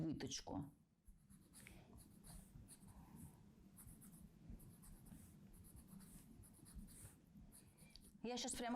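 A pen or pencil scratching on paper while a dart is drawn on a skirt pattern for a wool winter skirt, faint steady strokes with a brief louder sound at the start and end.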